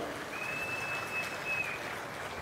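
Audience clapping steadily at a chief minister's public speech at a Sanjeevani programme in Kandriga, a dense, even wash of applause from a crowd throughout.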